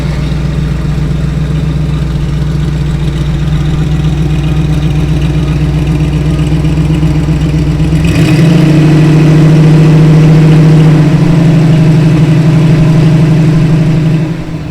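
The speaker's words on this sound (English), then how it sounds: "Just regular Chevy 350 exhaust, and wow." A 1952 Ford F-1 pickup running stock Chevy 350 exhaust with stock replacement mufflers idles up close in a steady, loud low rumble, then settles into a slightly higher, smoother idle partway through, with no talking.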